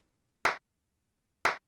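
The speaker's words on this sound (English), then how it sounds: "here's what it sounds without the delay, so you can hear just a clap" A dry, isolated hand-clap sample with no delay effect, heard as two crisp, identical hits about a second apart against silence.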